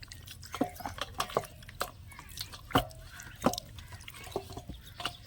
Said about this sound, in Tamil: First chicken கழுகிக்கலாம்பா.